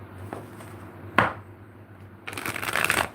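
Tarot cards are shuffled by hand in a few quick riffling bursts, with a sharp snap partway through and a longer, louder shuffle at the end, close and without speech.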